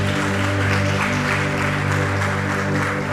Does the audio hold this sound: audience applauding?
yes